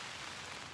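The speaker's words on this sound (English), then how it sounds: "As you can probably hear, it's still raining and windy." Steady rain with a constant windy rush in Fiordland, faint and continuous with no other sounds.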